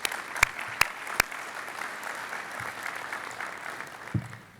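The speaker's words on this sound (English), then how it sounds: "a round of applause for our sponsors again" Steady audience applause at a space-policy summit plenary, a continuous wash of many hands clapping at moderate volume, punctuated by a few sharp louder claps near the start and a thud toward the end.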